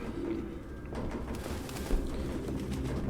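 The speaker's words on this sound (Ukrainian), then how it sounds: "Всюди голуби." Low pigeon cooing in the video game Detroit: Become Human blends into a continuous dull room ambience, with a faint bump partway through and no clear talking.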